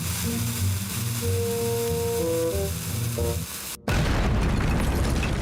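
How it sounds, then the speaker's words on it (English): Cartoonish musical tones give way to a sudden loud boom, followed by a sustained rumbling, crackling roar of a cartoon underground explosion. "They carry out big explosions underground."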